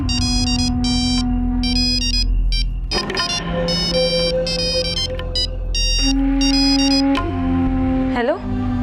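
A loud electronic phone ringtone plays in repeating melodic bursts, broken by a stretch of mixed sounds and talking before the ringing returns.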